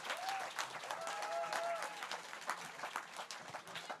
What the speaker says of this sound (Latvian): Un tagad lūdzu ar aplausiem sagaidām nākamo runātāju